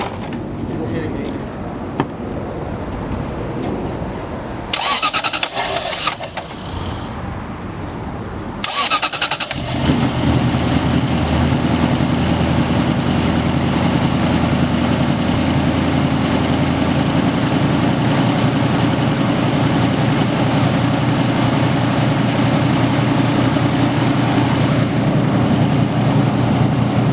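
A Lexus LS400 engine cranks and catches, then settles into a loud, steady idle, and the engine fan whirs hard under it. Earlier there is a muffled, rumbling stretch with brief talk.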